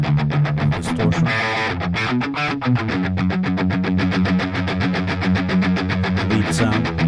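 Electric guitar run through a neural amp modeler plugin on a distorted setting, with a thick, saturated chugging riff of chords and notes played continuously and loud, with no speech.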